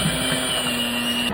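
An electric mixer whirs steadily while beating eggs for a Victoria sponge cake, a continuous close motor hum with a constant pitch throughout.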